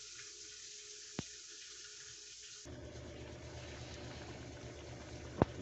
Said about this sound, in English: Look at that come to a boil.